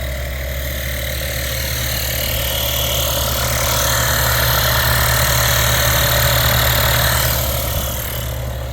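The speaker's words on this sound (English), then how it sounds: "So I'm airing up my tires now. I got my little Amazon knockoff pump going." A small portable air pump inflates the tires of a Ford Excursion, running with a steady, loud, close mechanical drone throughout.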